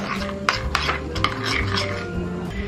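Butter and thyme being mixed in a bowl for roast chicken, with soft scraping and a few light utensil clicks against the dish, close and without talk over a low hum.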